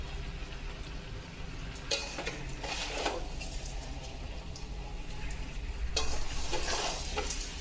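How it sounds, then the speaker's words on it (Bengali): Chalkumro (ash gourd) murabba with cracked cardamom is stirred in melted sugar syrup in a pan: quiet, soft bubbling broken by a few scraping spoon strokes, close up and with no voices. "এইভাবে আমি সবসময় নাড়তে থাকবো।"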